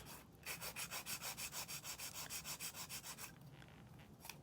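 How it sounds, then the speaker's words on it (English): A fingernail being shaped with a 100 grit nail file, a steady run of quick rhythmic rasping strokes, about fifteen in a row, close and soft, then a brief pause. "we're going to shape both sides here with a 100 side grit file"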